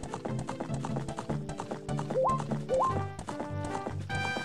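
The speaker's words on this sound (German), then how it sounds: "jetzt bin ich einmal mit dem Pferd unterwegs." Steady clip-clop of horse hooves trotting beneath upbeat game music in a Zelda: Ocarina of Time hack, with a brief whinny-like tone and a rising melodic chime.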